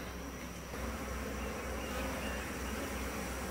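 Honey bees at a hive make a soft, steady, droning buzz that continues unbroken throughout, with no other sounds over it.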